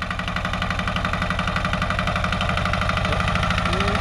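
An Ursus C-308 tractor engine runs loud and close while the tractor is used to water a cucumber crop, a steady rumbling throb that rises slightly in pitch near the end.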